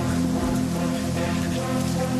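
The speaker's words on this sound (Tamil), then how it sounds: "மழையில் நினையாத, வாடா வாடா." Steady, dense rain falls in a scene from the Tamil film Kathakali, a loud, continuous hiss of drops on surfaces throughout the short stretch, with no voices over it.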